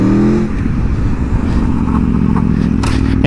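A 2021 Aprilia Tuono V4 Factory motorcycle engine revs hard and loud throughout a wheelie, with a steady roar, a brief rise in pitch and some crackle, heard up close with no talking.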